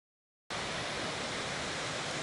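Glacier Creek rushing beneath a trail bridge, a steady hissing wash of water that starts abruptly after a brief silence and continues evenly at moderate level.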